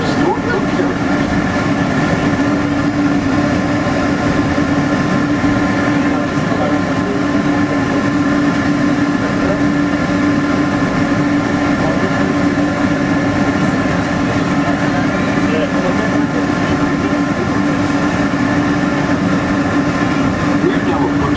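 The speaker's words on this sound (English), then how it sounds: "We're now approaching the Tomorrowland Monorail station, our final destination." Walt Disney World monorail gliding toward the Tomorrowland station, a steady loud rolling hum and drone of the train running continuously with faint narration voice underneath.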